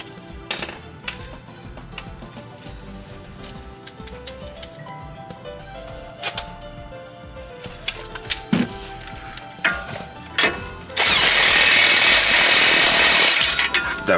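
A cordless impact wrench with a 19 mm socket tightens a nut while lowering springs are installed on an Infiniti G37, with clanks and metal tool handling first, then a loud, steady hammering rattle for a few seconds at close range.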